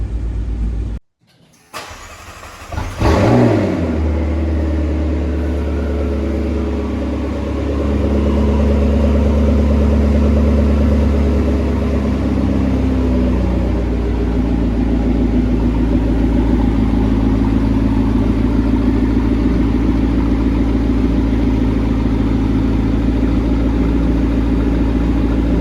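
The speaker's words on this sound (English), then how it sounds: "So glad that we get to start this car." A McLaren 650S Spider being rebuilt after heavy damage cranks and fires up loudly, flares with a rev, then settles into a strong, steady idle that rises slightly and holds for the rest of the clip.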